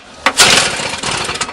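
Pull-starting a snowblower engine that fails to catch: a sharp recoil pull followed by a brief rough sputtering rattle that dies away, close and fairly loud, with no speech.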